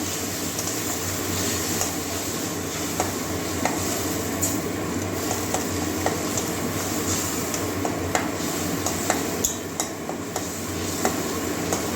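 Spice paste sautéed in hot oil with water added, for a Bengali curry of katla fish head and taro greens, a loud steady sizzle and bubbling hiss with scattered light clicks of stirring, without talk.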